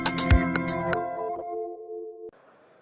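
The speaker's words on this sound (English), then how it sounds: "the little beeping sounds you heard there, that's our core technology. That's data being sent via sound." A quick series of bright, high-pitched chirping beeps from the Chirp app sending data via sound, over a sustained tone, fading out, then a brief burst of soft noise at the end.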